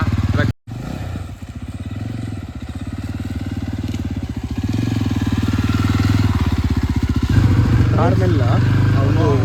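A motorcycle with a loud silencer runs nearby with a steady, throbbing exhaust that grows slightly louder and fuller as it revs. A voice briefly joins near the end.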